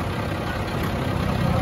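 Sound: tractor engine idling after starting

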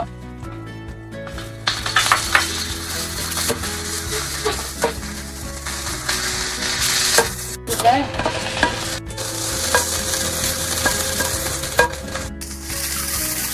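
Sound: pork stir-frying in a hot pan

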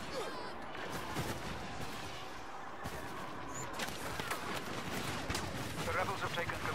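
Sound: gunfire shooting in a Star Wars video game

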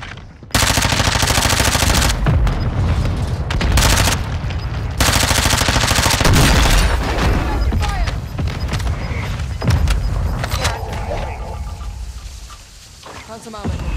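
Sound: mortar strike explosions and gunfire in a video game

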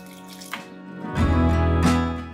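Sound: water being poured into dosa batter

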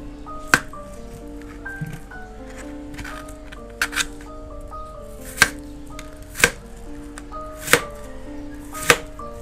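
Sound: knife chopping jicama root

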